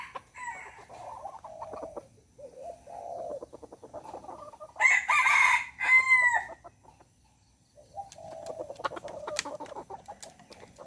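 A decoy rooster, a domestic fighting-cock type rather than wild junglefowl, gives a loud, close crow midway, with softer clucking and low calls before and after and no talk.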